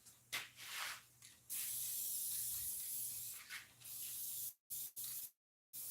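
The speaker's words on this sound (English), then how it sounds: "I also ran out of white spray paint" A can of black spray paint sprays in several bursts, loud and close, with steady hissing stretches broken by short pauses and silent gaps near the end.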